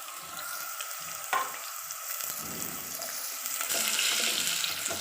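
Ginger fries in about four spoons of ghee over a medium-low flame, giving a steady close sizzle and crackle. Brief stirring knocks and swells in the frying noise run through it.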